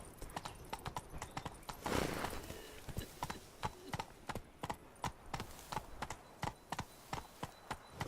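Horse hooves in The Witcher 3: Wild Hunt, Blood and Wine, a steady clip-clop of regular, evenly spaced hoofbeats with a brief louder rustle of movement early on, heard alone without talk.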